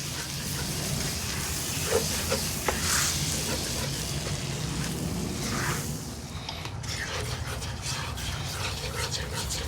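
Flour and butter sizzle steadily in a pan for a smoked pork belly mac and cheese roux, a dense crackling hiss with a few faint utensil clinks near the middle.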